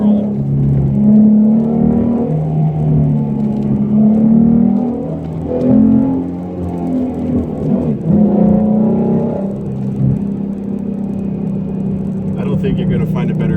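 A modified 2016 Ford Mustang S550 with the 3.7 V6 and stock gears driving, its engine humming and rising and falling in pitch with throttle, steady and close, under someone talking throughout.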